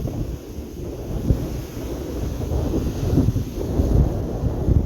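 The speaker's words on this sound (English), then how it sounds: "You can kind of see that wind blowing the sand across the wash here because of the wind advisory." Strong wind blows sand across a wash on Melbourne Beach during a wind advisory, giving a steady, gusty rumble of wind buffeting the microphone, with no one talking.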